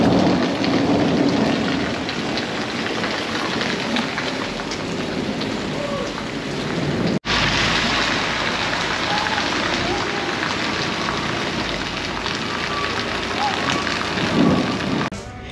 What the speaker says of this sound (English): this sunny, warm day could whip up a hailstorm.